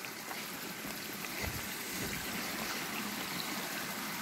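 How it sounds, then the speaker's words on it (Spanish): A river rushing through the beech forest of La Tejera Negra, a steady broadband wash of flowing water that stays constant and fairly close throughout, with no voices. "Fijaros, claro, baja un río."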